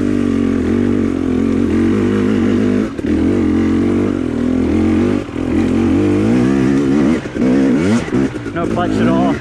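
A KTM 250XC TPI two-stroke dirt bike engine lugs at low revs in a mid-high gear while crawling uphill, a loud steady drone with throttle surges near the end, heard up close under a voice talking.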